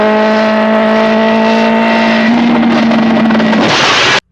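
A car engine drones loud and steady with a strong sustained tone that rises slightly, then dissolves into rushing noise before cutting off abruptly, in the film Harold and Maude's cliff-drive scene.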